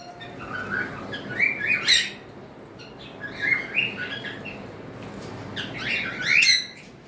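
A pair of pet sun conures gives repeated shrill, squawking calls in three loud bursts spaced a few seconds apart, close by, over a low steady background hum.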